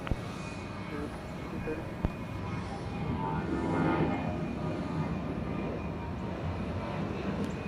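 A fixed-wing airplane at Atlanta's ATL airport rolls and takes off with a sustained broadband engine roar that swells toward the middle and then holds steady, with a voice talking over it at times.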